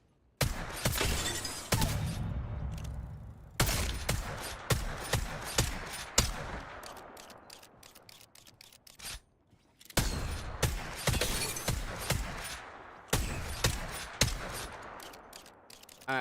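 Rapid bursts of gunfire in the Apex Legends video game, sharp repeated shots in clusters separated by brief pauses, loud and close with shattering impacts, no talk.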